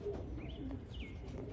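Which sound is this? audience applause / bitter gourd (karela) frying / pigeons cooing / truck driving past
pigeons cooing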